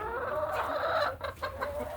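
Hens cluck and murmur inside a chicken coop, a steady layered chorus of soft calls at close range with no talking.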